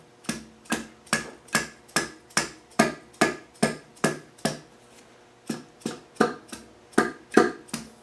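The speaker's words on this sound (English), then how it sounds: "Now taking your rubber mallet or your dead blow hammer" Steady, evenly spaced knocks of a rubber mallet hammering a stuck piston from a petrol engine, about twenty sharp dull thuds with a short pause midway, close by and fairly loud.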